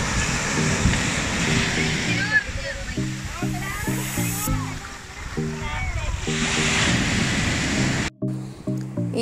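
Sea waves surging onto the eroding shore of Pokkancheri beach, where the water now reaches beyond the old stone seawall; a continuous close wash of surf under an intermittent voice.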